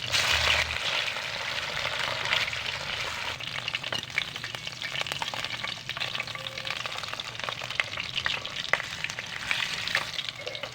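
Milkfish (bangus) fries in hot oil in a pan, with a dense, continuous crackling sizzle and occasional sharper pops, steady and close throughout.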